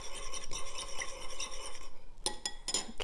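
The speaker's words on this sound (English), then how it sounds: "Mix it well." Szechuan cold noodles being stirred together with spicy sauce in a bowl: steady wet scraping and utensil clinks against the bowl, continuous with a few sharper taps toward the end.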